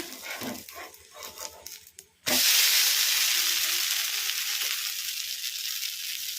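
An onion uttappa frying in oil on a pan, first a few scrapes and taps as it is turned over, then a sudden loud, sustained sizzle that hisses steadily and close.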